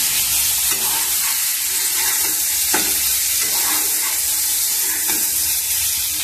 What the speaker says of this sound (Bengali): এবারে কি চিকেনগুলো কড়াইয়ের মধ্যে দিয়ে দেবো নাড়ার জন্য।